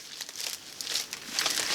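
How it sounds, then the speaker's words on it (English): A plastic bag holding Funko Pop merchandise crinkles and rustles close up as it is pulled open, in irregular bursts of crackling. "I'm not a fan of these plastic bags. They just never seem to open right for me."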